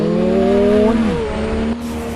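A Toyota Supra's twin-turbo 2JZ-GTE engine in a video game, Driving Empire, revs loudly up and then falls away, with a whistling turbo tone in the mix, close and continuous.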